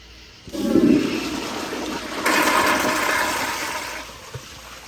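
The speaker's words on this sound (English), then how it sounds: "we're gonna keep doing flushes until it either stops moving completely or it goes down" A Kohler Kingston 1.6 gpf toilet flushing with toilet paper in the bowl, a close rush of water that surges, then swells into a louder, sustained draining whoosh before tapering off, with no voices.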